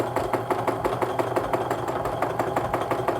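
A sewing machine runs during free-motion quilting, its needle thumping in a fast, even rhythm of close mechanical pulses, steady and alone throughout.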